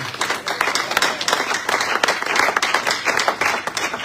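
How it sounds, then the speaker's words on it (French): Church congregation applauding and cheering during a service, dense clapping and voices filling the room steadily for the whole stretch, loud and continuous. "Nous honorons ta présence par des acclamations dans le nom de Jésus"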